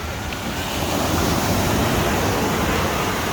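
Ocean waves breaking at Far Rockaway Beach, a loud, continuous roar of surf mixed with wind buffeting the microphone, steady throughout with no talking.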